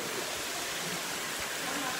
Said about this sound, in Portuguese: Chuva, muita chuva.